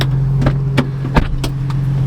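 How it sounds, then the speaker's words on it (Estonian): An Infiniti FX35 engine idling close by, a steady low hum with a series of sharp clicks and knocks over it, no talking. "auto käib"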